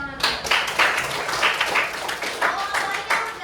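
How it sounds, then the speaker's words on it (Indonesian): A classroom of students claps together, a burst of quick, irregular hand claps that rises and falls over a few seconds, close and fairly loud, with voices mixed in. "Tepuk tangan."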